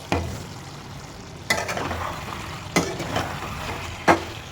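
Potatoes and cauliflower cook in a covered pan with a steady, soft sizzle, broken by a few sharp clinks and knocks spaced a second or so apart.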